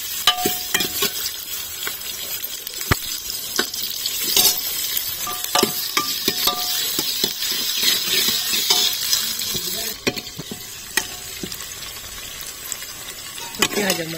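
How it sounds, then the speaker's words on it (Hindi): Onions and cumin seeds frying in hot oil in a home kitchen, a loud continuous close sizzle with frequent sharp clicks and scrapes of a stirring spoon against the pan. "तेल हमारा गर्म हो गया है, और अब डालूंगी मैं जीरा। तो अब डालूंगी मैं प्याज"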